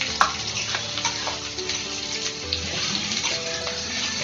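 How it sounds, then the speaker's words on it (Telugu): Onion pieces frying in oil for a mutton curry, a continuous close sizzle with light stirring clinks and scrapes at intervals, no one speaking. "ఇప్పుడు ఈ ఉల్లిపాయ ముక్కలు కొంచెం వేయించుకుందాము"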